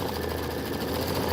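An embroidery machine stitching out the snow block of a Let It Snow pillow, a steady fast mechanical whir and rapid needle chatter running without a break, close and moderately loud.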